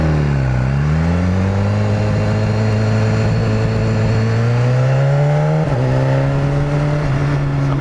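A BMW S1000RR motorcycle engine drones steadily while cruising a Formula 1 track, a loud, close, continuous hum that rises in pitch gradually with a brief dip and shift near the end as the rider changes speed.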